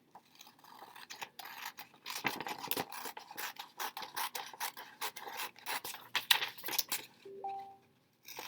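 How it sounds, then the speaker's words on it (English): Scissors snip pictures out of a paper worksheet page in dense, irregular bursts of rasping cuts that run for several seconds, close and moderately loud, with a few brief tonal squeaks near the end and no talking. "Okay, page 6 we're going to pull right out of the packet and cut it up."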